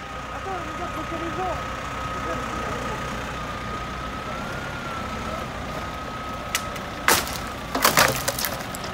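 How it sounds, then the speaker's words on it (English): A tractor pulls a dead Catalpa branch by rope, with an engine droning under the outdoor noise until sharp splintering cracks of the wood fracturing break out near the end. "Pulling it with a tractor."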